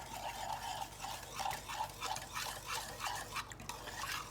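A teriyaki marinade of low-sodium soy sauce being stirred in a bowl, with soft, continuous swishing and light clinks of a utensil in a loose rhythm, quiet and close, no voices.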